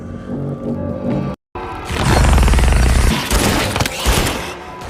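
Bursts of gunfire from a film as a giant monster caterpillar is shot, loud and dense after a brief silent gap, with booming low rumble and rapid repeated shots filling most of the clip.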